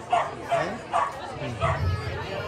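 Several dogs give short yapping barks and whimpers in an even rhythm, close and fairly loud, roughly every half second, with people talking underneath.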